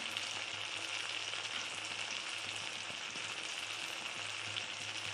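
Ground coriander, cumin, red chili powder, turmeric, green chilies and ginger paste fry together in a pan for a Bengali fish curry, producing a faint, even sizzle that holds steady throughout.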